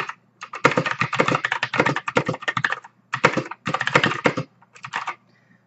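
Brisk typing on a SainSonic wireless backlit mechanical keyboard with blue switches, close crisp clicky keystrokes in rapid bursts separated by short pauses, with no voices.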